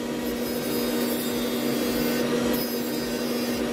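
An electric nail file with a rotating bit grinds steadily while shortening a fingernail, giving a continuous close whirring buzz with an even tone throughout, no voices.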